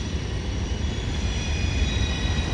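CSX 1850, an L&N heritage locomotive, rolls slowly into the rail yard at Cumberland, Maryland, a steady broadband rumble with a high metallic wheel whine and faint squeal riding on top, continuous and moderately loud.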